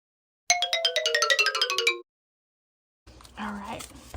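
A phone gives a charging notification: a bright descending chime sequence of repeated harmonic tones over about a second and a half, followed by a pause and then faint muffled noise.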